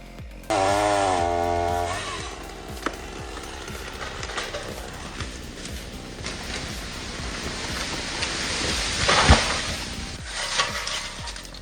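A chainsaw cutting a tree gives a brief loud engine whine at the start, then drops into sustained rough, noisy cutting and crackling of wood, with louder thumps and rustles toward the end.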